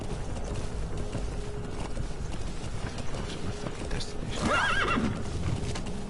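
Galloping hoofbeats run under a noisy background in the video game Metal Gear Solid V: The Phantom Pain, then a horse lets out a loud, wavering whinny partway through.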